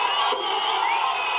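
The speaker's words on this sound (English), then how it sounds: "And the crowd is excited." Crowd noise from spectators at Canada's Strongest Man 2009 strongman competition, a steady excited roar with cheering and whoops held at even loudness throughout, no talk over it.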